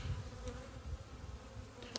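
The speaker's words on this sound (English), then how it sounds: "Bees are just still pouring in here." Honey bees at a hive give off a steady, low, dense buzz that holds through the whole stretch, with a few faint clicks and knocks on top and no talking.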